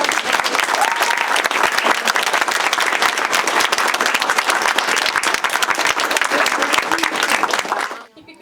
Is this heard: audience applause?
yes